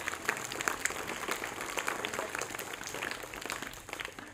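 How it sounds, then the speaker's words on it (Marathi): Sustained applause from a crowd of school children at a school event, steady and fairly loud throughout with no pauses. "त्यांच्यासाठी सुद्धा जोरदार टाळ्या व्हायला पाहिजेत"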